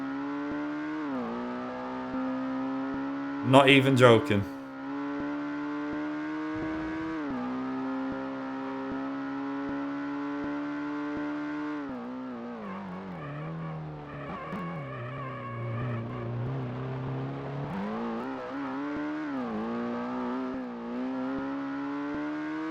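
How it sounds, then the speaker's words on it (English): Racing car engine from the PS1 game Ford Racing, a steady high revving drone with pitch shifts as it accelerates and gear changes, a brief loud skid or impact burst early on, and a short spoken phrase near the end. "This is the same engine sound as the Dodge Viper from Gran Turismo."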